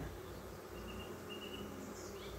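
Honey bees buzz steadily around an open brood frame from a hive, a continuous dense drone close by with no talk.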